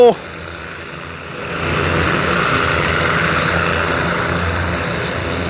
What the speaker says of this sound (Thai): อันนี้ก็คือความลั่นของรถดิเซลาง RHN นะฮะ ได้ฟังเสียงเครื่องฮะ